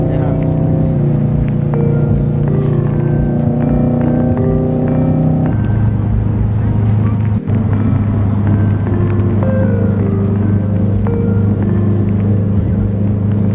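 A Subaru with an aftermarket exhaust drives by, its deep droning exhaust note steady and loud with a shift in tone partway through; no talk is heard over it.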